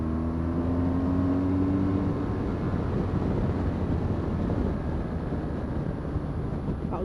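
A 2015 BMW R1200GS motorcycle accelerates hard, its engine note rising steadily through the gears as a loud, continuous roar mixed with heavy wind rush.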